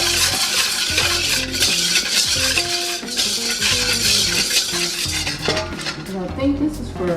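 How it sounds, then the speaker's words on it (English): A whisk clinks and scrapes steadily around a bowl, stirring a seasoning packet into oil for crispy baked potato wedges, a close, continuous rattle of metal against the dish with no talking. "Just whisk it around."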